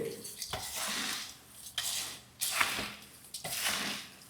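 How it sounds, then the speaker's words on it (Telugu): Kara boondi, the fried gram-flour snack, being tossed and mixed in a metal bowl with peanuts, giving clattering scrapes and rustling shuffles in several bursts, close and fairly quiet. "ఇలా వేసిన తర్వాత సరి కలుపుకోవాలండి"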